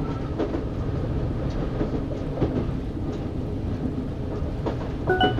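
A video game train on the Northern Line rolls along outside with a steady rumbling roar and occasional rhythmic clicks and clatters, loud and continuous.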